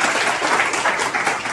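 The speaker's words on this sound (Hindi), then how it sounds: "जोरदार तालियां बजा दो" A classroom audience of students breaks into loud, hearty clapping for a fellow student, a steady crackling wash of many hands that fills the whole short stretch.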